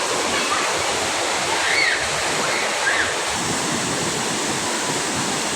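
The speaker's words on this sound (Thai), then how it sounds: "น้ำตกละ" Waterfall in Vang Vieng, Laos, a steady broadband roar of falling water, close and loud throughout, with brief faint voices rising over it.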